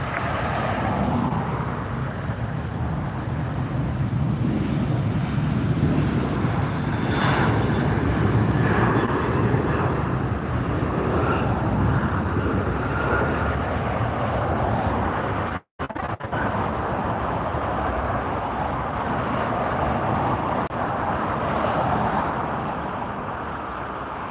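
Lufthansa airliner lining up on runway 24 left at LAX, a steady loud broadband jet engine roar that holds for the whole stretch with one brief dropout, no talk.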